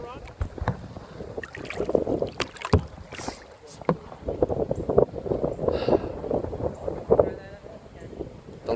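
A kayak is paddled down the Westport River in Massachusetts, with uneven paddle splashes and water sloshing close by, wind gusting on the microphone and people chatting at intervals.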